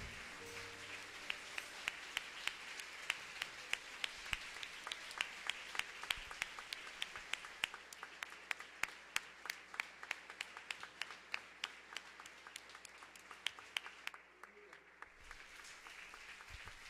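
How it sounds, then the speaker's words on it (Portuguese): A church congregation claps in praise during a Portuguese-language service, a fairly quiet spread of many hands with some crisp individual claps standing out, continuing steadily before dropping away briefly near the end. "Aplauda o Senhor, irmãos"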